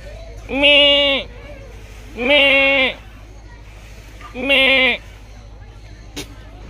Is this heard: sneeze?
no